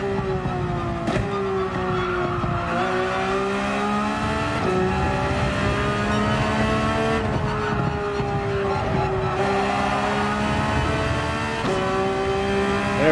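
A race car in Gran Turismo 7 on the Laguna Seca circuit holds a loud, continuous engine drone throughout, its pitch rising and falling with shifts and corners, with occasional faint tire noise.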